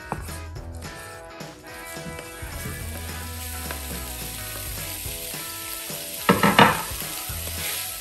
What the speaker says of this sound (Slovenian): Piščance zlato popečemo